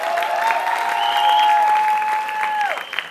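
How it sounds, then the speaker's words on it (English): A college audience at a film promotion event applauds while shrill whistles slide and hold above the crowd, with the clapping steady and fairly loud throughout. "A big round of applause,"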